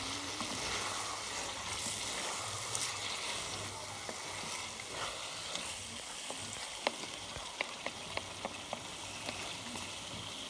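Chicken stir-frying in a karahi, with a soft, steady sizzle and scattered light clinks of a spoon against the pan, fairly faint throughout.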